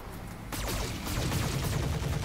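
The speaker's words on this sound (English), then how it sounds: "We'll just fire everything on this guy." Mech weapons open up together in the Roguetech battle game, a sudden loud salvo of rapid gunfire and impacts that keeps crackling densely for about two seconds.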